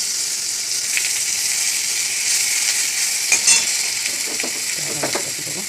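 Tomato, onion and green chilli frying in a pan, a steady bright sizzle with occasional stirring scrapes and small pops, close and continuous throughout with no talking.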